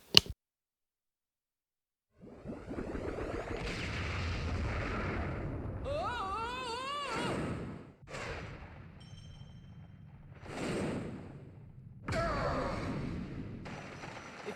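A blast erupts in the Kid Icarus: Uprising video game, a loud booming rumble that swells and rolls on for several seconds, followed by further heavy bursts and crackling effects.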